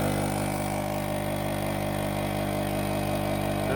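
A car engine idling steadily after a new gas tank and trunk pan install, a loud continuous rumble with an even pulsing beat and no pauses.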